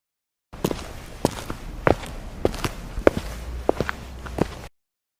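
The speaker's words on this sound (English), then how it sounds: "I'm going to just find walking sound effect first" Footsteps sound effect with about a dozen irregular, fairly close steps over four seconds, sharp heel strikes on a hard floor with no voices, starting and stopping abruptly.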